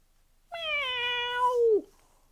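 A voice imitates a cat, giving one long drawn-out meow that rises, holds steady and then slides down at the end, close and clear, with no other talk around it.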